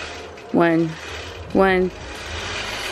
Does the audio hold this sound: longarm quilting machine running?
yes